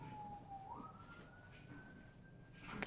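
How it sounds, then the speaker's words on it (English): Ambulance siren passing outside, a single faint, distant wailing tone that slides slightly and then rises, heard through a quiet room with no talking. "we're gonna wait for those sirens to pass"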